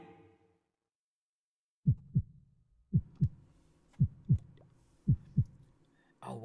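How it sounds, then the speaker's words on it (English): A heartbeat sound effect played during a Nations Clash Championship semi-final match between Poland and Brazil: four clear, evenly spaced double thumps, low and loud, following a brief murmur of voice at the start. "bring in that heartbeat from Wolf and Jay."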